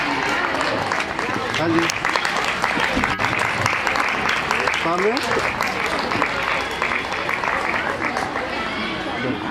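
An audience at a retirement ceremony claps steadily for nearly ten seconds, a dense, even wash of applause, with a few spoken words over it.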